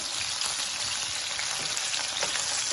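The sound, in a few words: boiled potatoes shallow frying in hot oil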